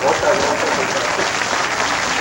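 A studio audience breaks into loud, sustained applause, a thick continuous wash of many hands clapping close by.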